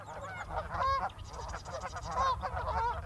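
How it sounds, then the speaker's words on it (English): Geese honking in the morning at a Nevada hot springs resort, several loud nasal honks at close range repeating irregularly, with faint chatter and background noise between calls. "the honking of geese"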